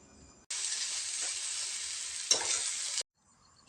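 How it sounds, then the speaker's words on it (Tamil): Tomatoes and a cup of grated coconut sautéing in a pan for channa masala: a dense, loud hiss of sizzling starts abruptly and holds for about two and a half seconds, with one brief scrape midway, then cuts off. "தேங்காய் சேர்த்து இதை வந்து நல்லா ஒரு நிமிஷத்துக்கு வதக்கிக்கலாம்"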